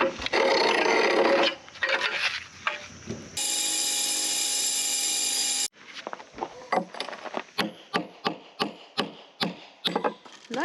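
Flagstone being scored for a patio, a loud continuous grinding rasp that stops abruptly, then a series of sharp, evenly spaced chipping knocks on the stone.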